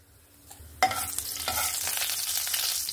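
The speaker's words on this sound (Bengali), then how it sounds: "এবার তেলটা গরম হলেই এখানে আমি ফোড়নে কিন্তু দেব কালো জিরে।" Nigella seeds hit hot oil while tempering, bursting into a sudden close sizzle. The crackling frying then holds steady, with no talk.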